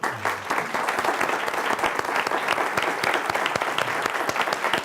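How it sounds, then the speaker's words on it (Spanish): An audience at a consumer-neuroscience panel applauds the speakers, many hands clapping loudly and continuously for several seconds with crisp individual claps audible, without voices over it. "creo que se merecen un aplauso"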